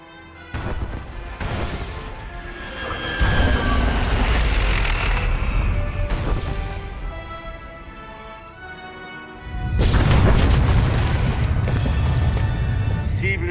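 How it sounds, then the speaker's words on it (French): The Gauntlet ship is destroyed in a sci-fi space battle, and the blast comes as several heavy booming crashes. Loud rumbling swells follow them, and a final massive detonation closes out the clip. "Passez à l'explosion."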